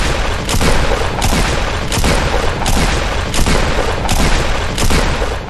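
Double pump shotguns firing in Fortnite, a loud, heavy blast roughly every 0.7 seconds, eight shots in an even rhythm over dense, continuous game noise.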